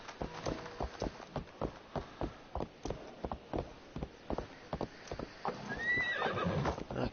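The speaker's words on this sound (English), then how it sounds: "I can't go in here with a horsey." A horse in Assassin's Creed Valhalla trots with a steady, fairly close clip-clop of hooves, then gives a loud whinny near the end, with no talking over it.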